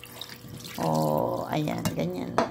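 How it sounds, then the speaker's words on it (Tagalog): Water pours from a tap into a cooking pot for mushroom adobo, a steady splashing stream that stops after about a second, with someone talking over it. "Tapos lagyan natin ng tubig."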